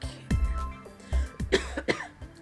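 A man coughs several times in quick rough bursts, close and fairly quiet, with a throat-clearing quality and short pauses between.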